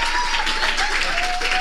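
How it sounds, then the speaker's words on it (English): An audience at a lecture on faith and religious identification gives a professor a round of applause: loud, dense, continuous clapping with a thin sustained tone running faintly underneath. "give her a round of applause"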